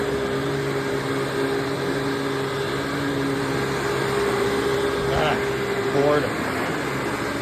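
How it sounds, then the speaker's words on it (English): A Maytag-version Hoover WindTunnel upright vacuum cleaner motor running at a steady tonal drone while a person speaks briefly over it, with a short scraping sound near the end. "Has a nice Maytag motor sound to it."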